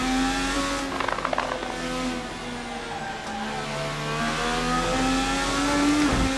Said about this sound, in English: Clutch out, and we're away for our first lap in this Formula Americas 2020.